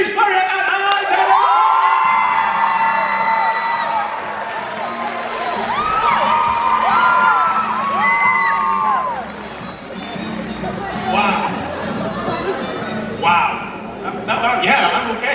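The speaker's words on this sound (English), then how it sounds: "big round of applause, holler, cheer, make some noise for James Murray and Ally Bennett!" A crowd at Resonate Glasgow 2019 cheers, whoops and claps loudly for about nine seconds, with shrill voices on top; the roar then drops to scattered hollers and applause as a voice speaks.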